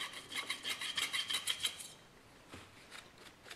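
Hand plane blade rubbed back and forth on a finer-grit sharpening stone, about a dozen quick rhythmic rasping strokes, close and clear, then softer, sparser strokes trailing off.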